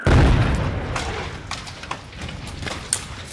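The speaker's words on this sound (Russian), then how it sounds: "В городе постоянно слышны взрывы минометных снарядов и автоматные очереди." A mortar shell explodes in the war-torn city of Bakhmut, a heavy boom at the start that rumbles and decays, followed by fainter distant thuds and crackles.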